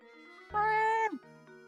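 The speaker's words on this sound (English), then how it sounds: "What's this cat doing here?" A single cat meows once in the Professor Layton video game, a clear, drawn-out tonal cry rising over quiet background music.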